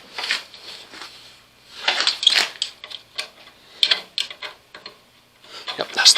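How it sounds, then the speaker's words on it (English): An Allen wrench tightens a fitting on a saw in a workshop: a series of small, close metallic clicks and ratcheting ticks comes in irregular bursts, with quiet pauses between turns. "let's tighten it down with an Allen wrench"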